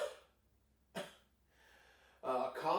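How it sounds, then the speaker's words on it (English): A few short, breathy coughs in a music lesson, separated by quiet pauses, with a heavier double burst near the end, heard up close. "A cough is a burst of wind."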